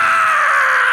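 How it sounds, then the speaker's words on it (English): The Five Nights at Freddy's jump-scare scream is a harsh, shrill, sustained shriek that stays loud and steady for about a second, with no other sound. "that scream is from a movie? Really? The FNAF scream?"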